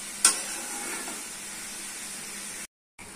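Chicken, potato and snake gourd curry sizzling and being stirred in a hot pan, a steady frying hiss with a sharp scrape near the start, then a brief cut to silence near the end.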